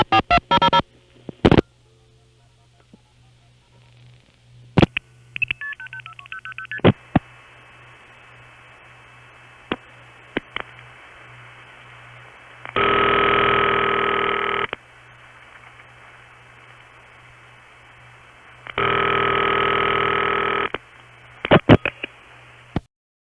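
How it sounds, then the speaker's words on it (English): Two long rattly telephone ring bursts on a 1970s Detroit crossbar long-distance call, buzzing harshly over a quiet hum-filled line with scattered clicks and short tones before and between them. "That line has some sort of equipment on it, perhaps an answering machine, that makes the ring sound rattly like that."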